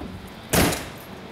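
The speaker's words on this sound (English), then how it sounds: "I'm going to shut the door." Door of a 2013 Forest River Cedar Creek Silverback 29RE RV pulled shut, a single close, sharp thud-like closing sound with a brief rush, set against a quiet background.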